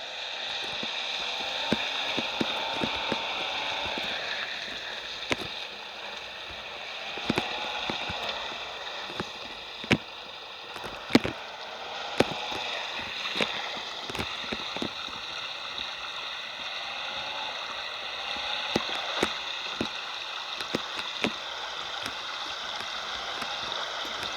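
An all-wheel-drive truck grinds through thick mud in the MudRunner mobile game, its engine droning steadily under repeated wet splashes and sloshing knocks.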